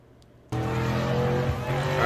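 A Chevrolet S10 pickup truck driven hard, a loud sudden burst of engine roar and tire squeal that kicks in abruptly after a quiet moment and holds steady and dense close by.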